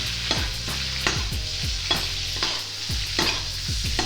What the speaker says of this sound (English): I'm just going to baste it on the other side now